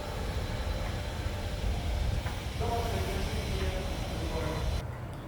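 The Wolmido sea train rumbles steadily along with a broadband hiss and faint squeals, a ride heard from inside, ending in a brief lull.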